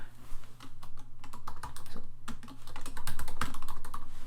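Steady, brisk typing on a computer keyboard while a file name is entered, with dense rapid clicks running throughout at close range and no voices.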